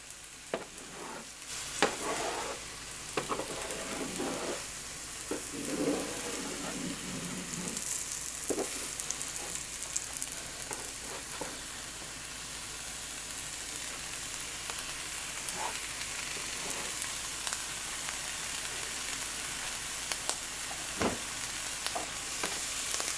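A Reuben sandwich fries in butter in a pan, a steady close sizzle with occasional stirring and scraping noises, continuous and without any voices.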